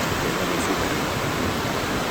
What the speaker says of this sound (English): I don't know if you'll be able to hear the ocean